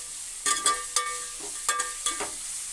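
Finely chopped onions frying over high stove heat, with a steady sizzle under a handful of sharp stirring clinks and scrapes against the pan, close and with no voice.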